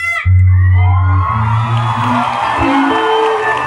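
A fan crowd at a meet-and-greet erupts in loud screaming and cheering for actress AJ Raval, high shrieks and whoops layered over a sustained roar, with a voice audible at the start before the crowd takes over.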